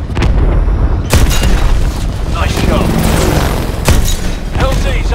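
Dense gunfire and booming explosions from Call of Duty Advanced Warfare combat against tanks and infantry, a loud continuous barrage with sharp blasts near the start and end, with speech over it.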